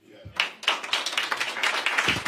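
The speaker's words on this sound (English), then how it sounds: "Give him an applause for that." Brief burst of applause from the audience at a Houston press conference where area leaders speak about federal disaster funding, a steady patter of hands clapping for a few seconds.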